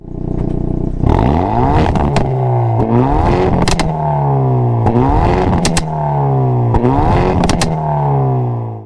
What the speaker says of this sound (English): I am madly, deeply infatuated with how the stock exhaust sounds